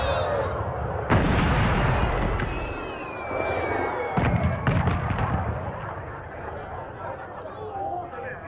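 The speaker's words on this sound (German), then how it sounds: "Wir können selber sprengen." Explosions set off in the video game Dragon Age: Inquisition, a loud sustained blast rumble with sharp bursts near 1 and 4 seconds, with in-game sound and speech mixed underneath.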